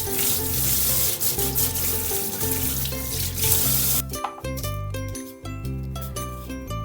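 Vegetables for pork and vegetable miso soup are rinsed under a running kitchen tap; a steady rush of water fills the first few seconds, then gives way to lighter splashing, with soft music playing throughout.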